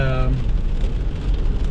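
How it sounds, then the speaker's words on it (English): Steady rain falls outdoors beside a swimming pool, a loud, dense, continuous hiss of drops on surfaces, with a voice speaking briefly at the start. "it's raining again"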